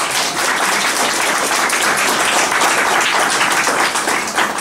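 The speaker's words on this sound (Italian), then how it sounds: "Faccio un applauso a tutti voi." An audience at a Queen Art Studio Gallery opening event applauds in a dense, continuous burst of clapping that stays loud and even from start to finish.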